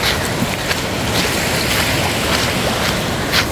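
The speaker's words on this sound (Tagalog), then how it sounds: "So, hilom kayo ang dagat karon." Calm sea at a beach on San Victor Island, a steady broadband wash of gentle waves and light wind noise, fairly loud and continuous with no talk.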